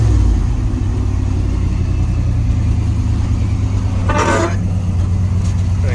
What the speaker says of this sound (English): The exhaust is all fucked up, but it sounds pretty cool.